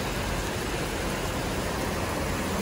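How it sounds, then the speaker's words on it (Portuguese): Heavy rain pours down at the port of Manaus in Amazonas, a dense, steady broadband hiss with no break and no voices. "Agora tá chovendo aqui bastante,"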